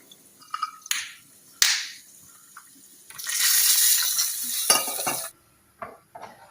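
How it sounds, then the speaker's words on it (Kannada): Raisins tipped into a pan while payasam of sago and vermicelli cooks, giving scattered clinks and scrapes, then a loud hissing, bubbling rush lasting about two seconds before settling back to occasional utensil knocks. "ಇವಾಗ ನೋಡಿ ನಾನು ದ್ರಾಕ್ಷಿ ಹಾಕ್ತಾ ಇದ್ದೇನೆ"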